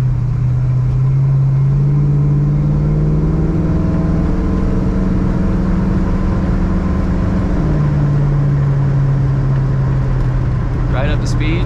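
A 1939 Chevrolet Master Deluxe pulling a matching trailer on the road, its engine droning steadily and rising in pitch as it accelerates, with the low hum holding loud and continuous throughout.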